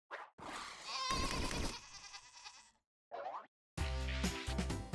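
A goat bleats in several loud, wavering cries broken by short silences, with a springy boing-like effect mixed in. There is no talk.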